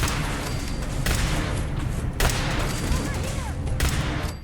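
Pistol gunfire in Fallout 4 rings out in three sharp shots spaced about a second apart, each a loud broadband crack trailing into a busy game backdrop with faint voices.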